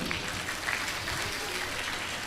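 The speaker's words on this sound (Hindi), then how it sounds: "तालियां बजाइए।" An audience of devotees at a spiritual discourse claps in a steady, continuous wash of applause, moderately loud throughout, with a faint voice underneath.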